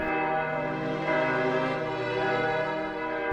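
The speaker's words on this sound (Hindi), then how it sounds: "12वीं घंटी बजती है।" A deep clock bell strikes midnight, giving one sustained, rich ringing tone that swells slightly and hangs without decay across the whole moment, like the twelfth stroke.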